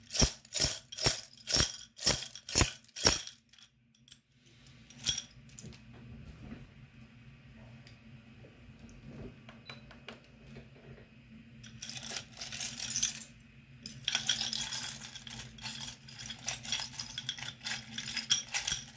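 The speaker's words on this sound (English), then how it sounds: "I'm gonna shuffle these charms." Small tarot divination charms shaken and shuffled by hand, a quick series of sharp metallic clinks and rattles at the start, then quiet handling and renewed jingling bursts toward the end, close and fairly faint.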